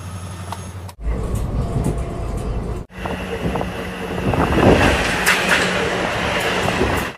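A train rumbles along steadily with rattling wheels and wind roar, loud and continuous, broken by a couple of abrupt cuts.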